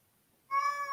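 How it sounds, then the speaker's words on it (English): A single cat meow starts abruptly halfway through, clear and close, holding a steady tone until the end after a brief quiet lead-in. "That was not a sheep. That was a cat."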